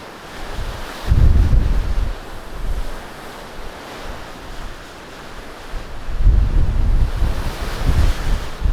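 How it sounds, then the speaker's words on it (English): Powerful wind gusts buffet the microphone with low rumbling roars at a mountain pass in Sardinia, Italy, surging strongly at the start and again near the end, no voices present. "The wind returned in full force as I reached the pass."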